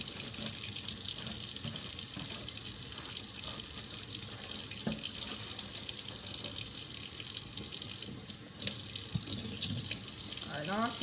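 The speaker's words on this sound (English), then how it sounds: "Alright, now I'm just going to rinse it now." Xbox 360 console parts are rinsed under a running tap into a sink, a steady loud rush of water that continues throughout, with brief changes as the parts shift under the stream and no clear talk.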